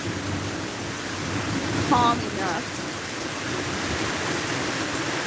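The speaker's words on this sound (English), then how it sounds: "But it's still raining right now." Rain falls steadily during a walk in a park, a constant broad hiss from nearby with brief chirps in the background and a person speaking briefly over it.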